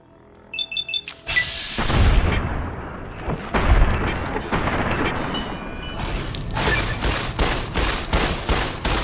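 Gunfire in Fallout: New Vegas, a heavy burst of loud booming shots and mechanical clatter, followed by a rapid series of sharp, evenly spaced reports in the closing seconds.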